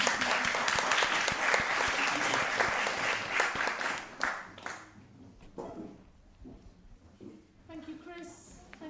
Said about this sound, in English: could we offer our panellists a round of applause, please?